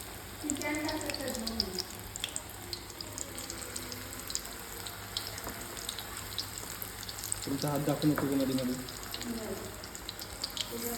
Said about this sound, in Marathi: तेल तापलं आहे आता भजी सोडू आपण तेलात